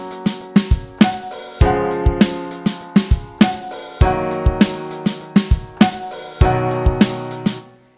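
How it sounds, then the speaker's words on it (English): A keyboard taps out a quarter-note pattern with the middle two beats left out, leaving crisp chord stabs in clustered groups and gaps that repeat over several bars, loud and close with no voices. "But let's say I'll play the quarter note division and I won't play those middle two ones"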